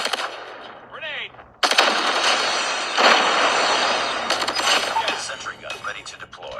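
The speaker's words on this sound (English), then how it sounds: "Grenade!" A grenade blast erupts in a mobile shooter game and is followed by loud, sustained bursts of automatic gunfire, with in-game voices calling out over the combat.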